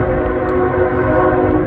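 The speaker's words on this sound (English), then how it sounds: "you can hear the train in the background" A train whistle on a track near the Big Savage backpack trail in Garrett County sounds as a steady, sustained, loud horn-like tone with a rumbling low background, continuous throughout.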